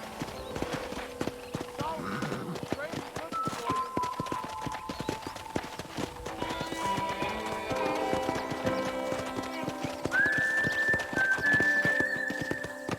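In Red Dead Redemption, a horse trots with a steady rhythmic clip-clop of hooves, mid-distance, under game music and speaking voices, with occasional whistle-like tones.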